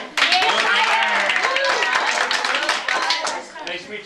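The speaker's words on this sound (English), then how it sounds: "let's give him a big round of applause, all right?" Applause from a small audience at a home magic show, dense clapping that starts abruptly and fades near the end, close and fairly loud, with a voice talking over it.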